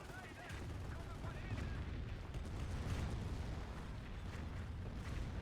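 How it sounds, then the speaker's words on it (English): Rocket artillery from a Calliope launcher fires in the Company of Heroes video game, a continuous roar of launches and explosions filling the whole stretch, with a voice faintly underneath. "Calliope is ready to shoot."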